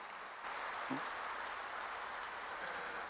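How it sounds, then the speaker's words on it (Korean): Distant, diffuse applause from a church congregation, a soft continuous wash of clapping at low level without distinct individual claps. "박수하세요."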